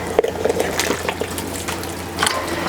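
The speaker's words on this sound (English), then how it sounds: "I'm just going to scoop these cabbage leaves out into the colander" Cabbage leaves are lifted out of a pot of water into a colander, giving wet splashes, drips and trickling water close by, with a few sharper clatters and a brief splash near the end.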